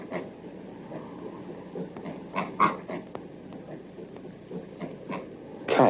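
Pigs grunt and oink in irregular bursts of low snorts and squeals, a few louder grunts standing out over a rumbling farmyard background, no voices.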